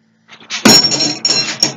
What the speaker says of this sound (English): I just hit that damn D-ring